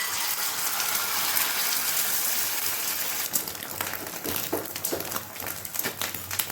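Beaten egg poured into a hot oiled pan, a steady loud hiss and sizzle with crackling pops that grow louder once the egg hits the oil.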